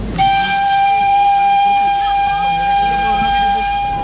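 A Nilgiri mountain railway train departs on the Mettupalayam to Ooty line, its whistle holding one long steady high tone across the whole stretch over a constant rumble of the moving train.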